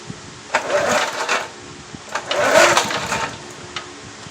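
A Snapper lawn mower with a Briggs and Stratton engine being pull-started, heard as two rasping, rattling bursts of the cord pull, each about a second long, with quieter mechanical clatter between them.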